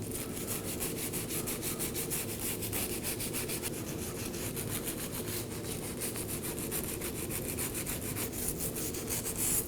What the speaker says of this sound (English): Now I'll be cleaning the face of the knuckle with a wire brush.